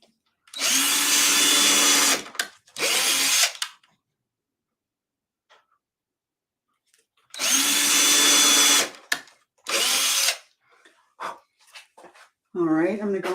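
A power drill boring pilot holes into a prepared canvas substrate runs in two long whirring bursts with short trailing spurts, separated by quiet pauses while someone works nearby.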